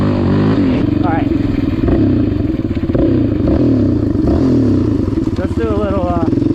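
A 2006 Yamaha Raptor 700 ATV fitted with new nerf bars pulls away in first gear, its engine a loud, steady, close rumble with some rattling and rising revs toward the end.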